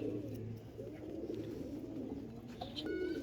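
Pigeons in a loft collection, soft low cooing heard continuously at close range amid a faint background hum, with a few light chirps near the end and no talk.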